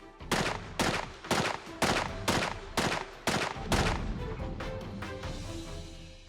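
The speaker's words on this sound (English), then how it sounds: "Then the process is repeated with a submachine gun." A submachine gun fires a string of single shots at body armor during a test, about eight loud, evenly spaced reports that fade into a lingering echo.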